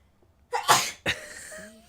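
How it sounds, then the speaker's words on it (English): A single person sneezes once nearby, a sharp loud burst with a quick second release, then quiet room air. "someone sneezing over there."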